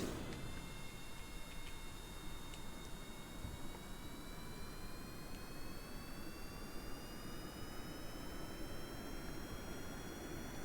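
Steady roar of a jet aircraft engine during a runway launch in Kerbal Space Program, a constant broadband rush with a faint rising whine throughout, fairly quiet and unbroken, with no voices.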